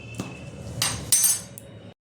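A utensil stirring and knocking through batter in a bowl for fritters, giving a few sharp clinks and scraping strokes close up, with no talk.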